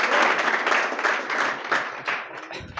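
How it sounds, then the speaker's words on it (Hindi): An audience claps and applauds loudly, the sound steady for a few seconds before tapering off. "एक बार जोरदार ताली से स्वागत कीजिए"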